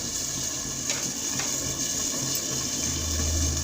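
Rice boiling in a pot on the stove, a steady bubbling, watery churn that holds at an even level throughout, with a low rumbling simmer swelling near the end and no voices.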